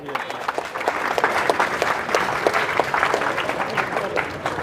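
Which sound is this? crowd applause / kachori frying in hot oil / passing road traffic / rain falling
crowd applause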